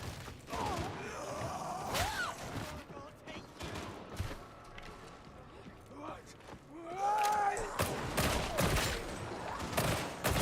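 Auto pistol fire in Darktide, bursts of sharp shots scattered through a chaotic fight, with heavier volleys near the end, under game voices and speech.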